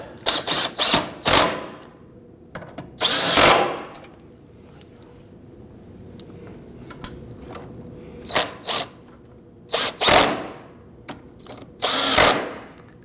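A power drill or impact tool snugs four bolts on a Volvo XC60 AC condenser, firing in several short, loud bursts separated by quiet pauses.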